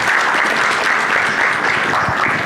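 A conference audience applauds session moderators with steady, loud, dense clapping that carries throughout and has no voices over it.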